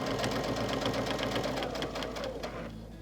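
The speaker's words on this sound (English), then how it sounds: "I'm just going to judge so that I stop stitching 1/4 inch away from the next seam" Close, continuous whirring of a sewing machine stitching a quilt-as-you-go block with sashing, running steadily without pause and easing slightly toward the end.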